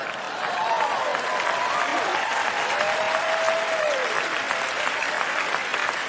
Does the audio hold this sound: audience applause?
yes